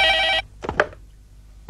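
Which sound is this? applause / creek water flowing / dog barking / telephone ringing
telephone ringing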